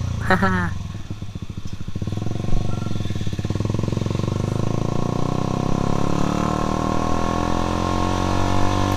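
A Honda CBR150R Repsol Edition motorcycle engine revs sharply, then settles into a steady, loud, buzzing idle-rev drone close by, with talk heard briefly over it.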